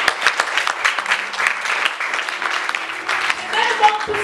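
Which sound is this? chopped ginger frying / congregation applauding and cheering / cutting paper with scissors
congregation applauding and cheering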